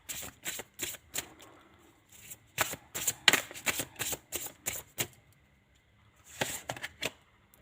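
Tarot cards riffled and shuffled for a reading in short crisp bursts, each a quick papery flutter, with pauses between clusters and a final burst near the end, close and moderately loud, no voices.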